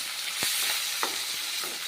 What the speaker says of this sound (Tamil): இப்போ எல்லாத்தையுமே வந்து நல்லா கண்ணாடி பதத்துக்கு வந்து வத வதக்கிக்கணும்